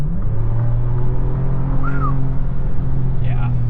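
A 2025 Ford Ranger Raptor pickup, with coilover suspension, picking up speed to pass another vehicle, its engine giving a steady loud drone with rising tone, heard from inside the cabin alongside a few short vocal sounds.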